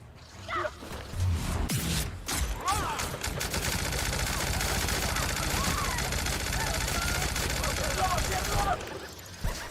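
Rapid gunfire bursts from a sci-fi shooter game, The Outer Worlds, in a hectic firefight, dense repeated shots with impacts and whooshes filling the whole stretch, loud and close.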